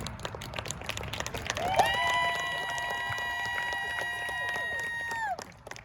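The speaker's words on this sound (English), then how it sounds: "let's give another round of applause" A school pep rally crowd applauds and cheers in a large space, broad clapping and shouts overlapped by a long sustained horn or organ chord that rings for several seconds before cutting off.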